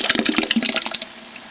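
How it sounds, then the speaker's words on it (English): Tomato sauce pours into a pot of vegetable beef soup, a short run of wet glugs and splats for about a second that trails off into quiet, with no talk. "And I'm adding in my tomato sauce."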